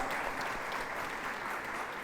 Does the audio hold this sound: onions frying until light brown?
no